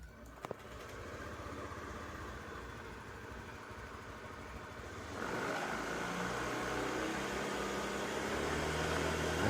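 A Honda Beat ESP scooter engine, rebuilt after a white-smoke fault, idles steadily during a test run, then its drone grows louder and fuller midway and holds there.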